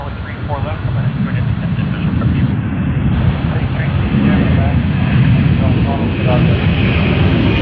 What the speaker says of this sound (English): HJ23, Sydney to Hong Kong on the Boeing 767-300.